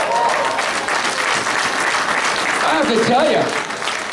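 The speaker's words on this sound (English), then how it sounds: "Let's give them an applause." A crowd applauds participants of a slimming contest, a dense continuous wash of clapping filling the whole stretch, loud and steady, while someone speaks over it.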